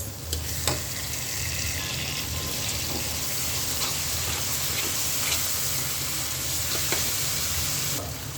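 Steady, loud sizzling fills the pan as salt and shrimp go into hot oil for a Bengali shrimp and taro stem curry, with a few sharp clinks of a utensil near the start and end and no voices.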